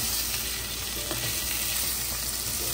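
Mung beans and shrimp sauté in a hot pan, giving a steady, loud, continuous sizzle with faint stirring scrapes underneath and no pauses.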